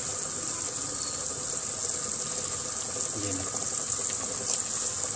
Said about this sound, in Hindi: ये देखें दोस्तों, हमारा पानी अच्छी तरह उबल रहा है।